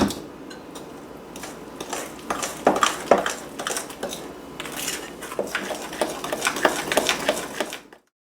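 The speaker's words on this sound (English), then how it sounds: "Once you've worked all the beans in, then mix it real well." Spoon scraping and clinking against a bowl while bean puree is worked into gluten-free brownie batter, steady irregular knocks and scrapes close up for several seconds, then stopping abruptly.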